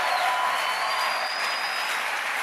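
A church congregation at a Sunday service claps and cheers in praise of the Lord, a steady wash of applause from a large crowd with a faint sustained tone running through it.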